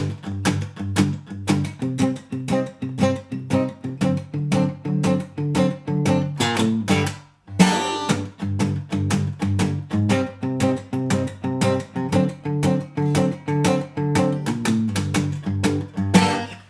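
Strummed guitar chords in a steady rhythm with a bass line stepping downward from G, a brief pause midway, then the strumming resumes.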